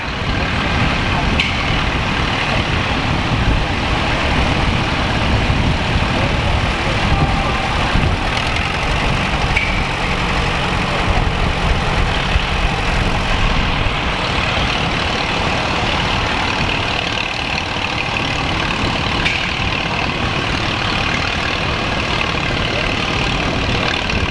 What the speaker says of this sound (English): Allis Chalmers WD-45, owned by Gerald Coy.